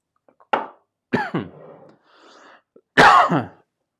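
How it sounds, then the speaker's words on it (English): A streamer coughs in a few harsh, separate bursts close to the mic, with a short rasping throat sound in between, a loud final cough, and no talking. "every time I come on stream, I just start coughing and dying"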